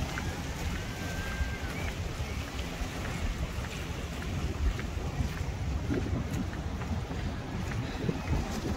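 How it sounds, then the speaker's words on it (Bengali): A speedboat out on the sea off a beach at Portimão, heard as a steady broad engine roar mixed with wind buffeting the microphone and surf, continuous and moderately loud throughout. "দেখলেন স্পিড বোট দেখলেনি"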